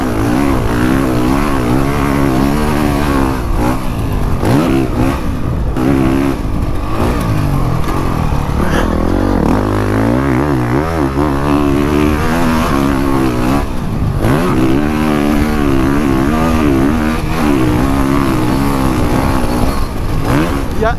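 A Honda CRF 450 dirt bike on its first ride, the engine droning loud and close with constant rising and falling revs through gear changes, heavy wind noise rushing over everything.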